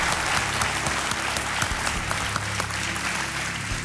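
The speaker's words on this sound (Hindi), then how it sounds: "तालियों के साथ उनका स्वागत" A studio audience on a Hindi quiz show claps steadily and loudly to welcome a contestant's partner, a dense sustained burst of applause filling the room.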